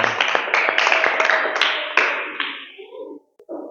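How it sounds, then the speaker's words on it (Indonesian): Classroom applause for a classmate, a short burst of brisk clapping from a group of students that fades out after about three seconds, followed by a brief murmur. "Kita kasih tepuk tangan untuk teman kita"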